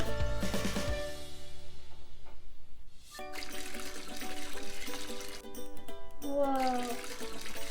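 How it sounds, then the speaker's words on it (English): Water pours into a tray for a science-kit mixture in a kitchen, a soft splashing trickle that stops and starts again in short runs amid faint household noise. "now you have to slowly add the water into the tray"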